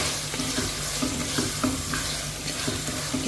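A medium-sized tomato frying in a pan for Kolkata-style mutton tahari, a dense steady sizzle with a regular soft tapping of stirring throughout, close and alone without any talking.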